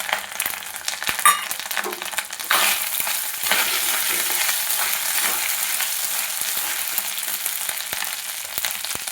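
Ginger and green chili paste hits hot oil in a spice tempering for cauliflower kachori, sizzling loudly with a sharp initial burst, then a steady dense crackle with stirring scrapes, no voices.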